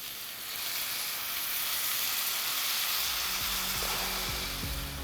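Sweet and sour sauce hitting a hot pan of crispy tofu gives a loud, steady, hissing sizzle, with bubbling that grows and thickens toward the end, close and uninterrupted, no voices.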